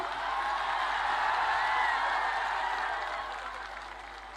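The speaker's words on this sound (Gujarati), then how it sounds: "વીરભદ્રસિંહભાઈને આપણે આવકારીએ છીએ તાળીઓના ગડગડાટની સાથે" Applause at a Kshatriya community gathering in Rajkot welcomes the speakers, a dense, steady roll of clapping from a large crowd that holds for several seconds and then gradually fades.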